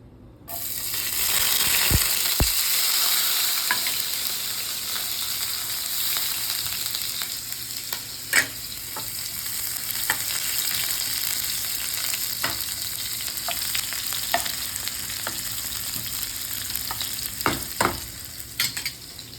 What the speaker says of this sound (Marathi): तूप टाकलं तर 1 कांदा टाकायचा.